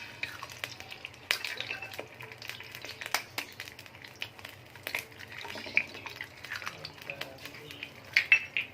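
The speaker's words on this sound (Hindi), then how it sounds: "ऑयल हो गया गर्म, इसमें हम 2 अंडे डाल देते हैं तोड़ के।" Two cracked eggs fry in hot oil in a pan, a soft continuous crackle and spatter with scattered sharp pops and utensil taps, fairly faint throughout.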